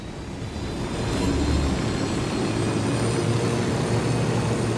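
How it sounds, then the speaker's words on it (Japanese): Steady engine drone of a helicopter in the video game Ghost Recon Wildlands, a continuous rumbling whir with low rotor throb, constant and moderately loud throughout with no voices. "ヘリを用意した"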